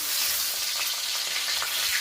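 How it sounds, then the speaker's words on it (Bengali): Chicken pieces frying in a pan of hot oil for mixed chowmein, a loud, dense, crackling sizzle heard close and continuous, with no talk. "ডিম ভুজিয়া করে এবার চিকেনটা ভাজছি"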